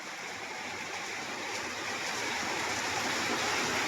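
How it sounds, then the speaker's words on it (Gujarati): Heavy evening rain pours down in a steady broadband wash, continuous and even throughout, with no voices over it. "બહુ એટલે બહુ જ વરસાદ ચાલુ છે સમી સાંજનો"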